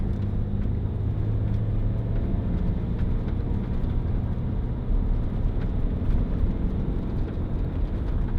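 Inside a BMW X6 30d xDrive automatic on the move: a steady, loud, low road and engine rumble fills the cabin throughout, with no voices over it.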